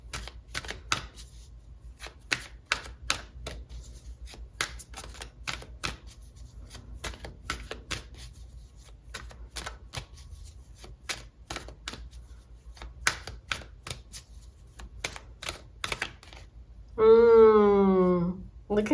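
Tarot cards being shuffled and pulled: a long run of quick, crisp riffling clicks and slaps up close, ending in a brief bright tonal burst near the end. No one speaks.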